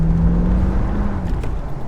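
A car engine drones steadily at an autocross course as the driver rolls onto the throttle, heard from inside the car as a loud, continuous low hum with a rising pitch, with no voices.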